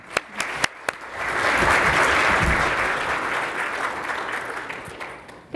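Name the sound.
audience round of applause welcoming speakers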